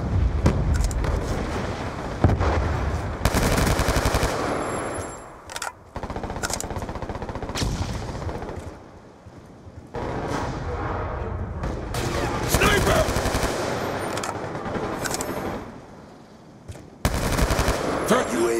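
M27 rifle fire in the Call of Duty map Raid: loud, close bursts of rapid automatic shots broken by short pauses, with occasional game voice callouts mixed in.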